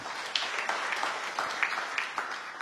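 A church congregation breaks into applause, a fairly faint, steady patter of many hands clapping with scattered sharper claps throughout.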